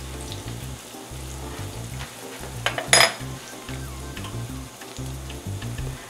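Plantains fry in a skillet with a steady low sizzle, broken by a few clinks of utensils against the pan and one brief bright clatter, with no talking.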